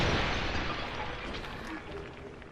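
A Dark Souls 2 enemy blows up in a dense, booming burst that fills the moment and then decays into a rumbling tail, loud and close throughout.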